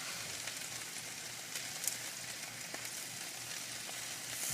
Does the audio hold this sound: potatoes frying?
yes